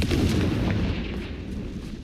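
Confringo fire spell blast in the Hogwarts Legacy video game, a loud, dense rumbling explosion that swells at once and rolls on steadily for about two seconds, with no talk over it.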